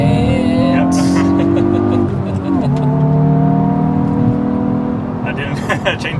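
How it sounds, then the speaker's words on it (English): A 2022 Hyundai i20N hot hatch pulls away on launch control, its engine note climbing steadily, dipping briefly at a gear change and rising again, close and loud inside the cabin as people talk over it. "I think we did launch control."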